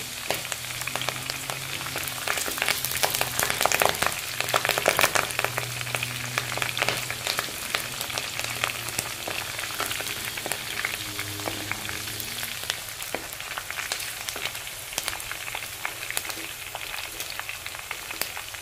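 Curry leaves and dried red chillies sizzle and crackle in hot oil for a chicken fry, a steady dense frying hiss with scattered pops and a few stirring scrapes, fairly quiet and close.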